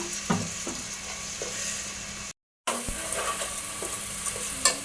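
Tomatoes sizzle and fry in a pan for chicken biryani, a steady loud crackle with stirring scrapes and a few clinks, and a short gap of silence partway through.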